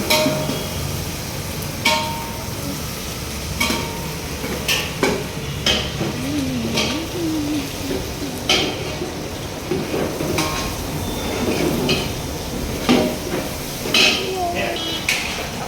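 A spoon works through chicken curry in a pot with scattered clinks and scrapes against the metal, spaced irregularly beneath ongoing talk and a low background hum.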